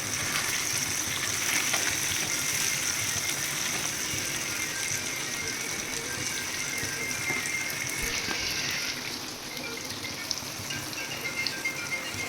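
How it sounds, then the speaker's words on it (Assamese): Jackfruit pieces frying in a pan for an Assamese-style jackfruit curry, a steady dense sizzle with crackling pops running throughout, loud and close, easing slightly near the end, with no talking. "এতিয়া কঁঠাল মুচিখিনি অকণমান ফ্ৰাই কৰিব আছে।"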